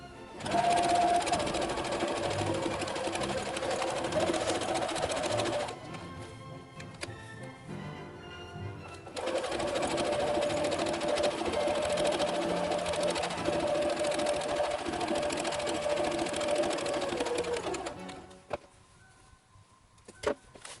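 A sewing machine runs steadily along a seam on an Imperial officer hat, two long loud stitching runs broken by a short pause, with a quieter stretch at the end.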